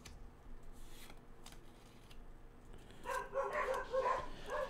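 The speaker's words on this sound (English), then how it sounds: "I have no clue what the dogs are barking at" Dogs bark in a short burst of repeated yaps toward the end, following a quieter stretch of faint rustling and handling noise.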